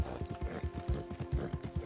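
Horse hooves clip-clopping at a steady trot in the Red Dead Redemption II video game, a quick regular rhythm of soft thuds, fairly quiet with faint background ambience.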